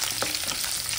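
Chicken frying dhaba style in mustard oil in a pan, a steady close sizzle with a faint stir partway through, heard alone for about a second.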